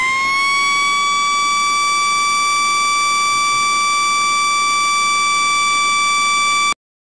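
A toy siren sign sounds one steady, loud electronic tone that rises slightly at the start, holds evenly for nearly seven seconds, then cuts off abruptly, with nothing else heard.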